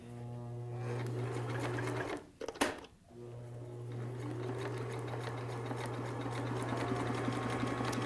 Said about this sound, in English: I start with a zigzag stitch, and I'm going to zigzag it just to prevent it from fraying later